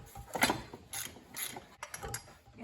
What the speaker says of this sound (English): now we'll get these three bolts out of the way